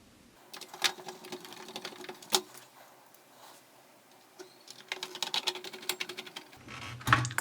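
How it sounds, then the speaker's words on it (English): Screws being driven back into the chassis of an Onkyo TX-DS575 receiver, quiet close ticking and clicking of a screwdriver in irregular bursts, with a few sharper knocks and a dull thump at the end. "I want to put the two screws back in that I removed from the cooler back here at the front of the unit"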